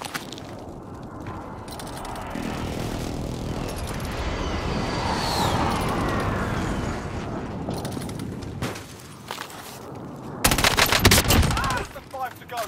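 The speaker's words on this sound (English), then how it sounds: "Enemy precision airstrike, take cover." Enemy precision airstrike in the Warzone battle royale game, a dense stretch of rapid gunfire and booming impacts rumbling continuously, building into louder crashing blasts near the end.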